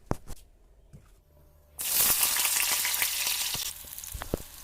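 Raw banana and potato pieces seasoned with salt and turmeric drop into hot oil, setting off a loud sudden sizzle that settles into steady frying after a few quiet knocks.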